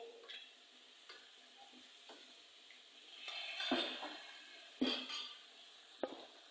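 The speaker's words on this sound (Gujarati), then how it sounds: "હવે હલાવી નાખીએ" Crumbled bajra rotla with sour curd stirred in a hot pan: a soft sizzle under a few scraping stir strokes, the strongest ones sharp and close.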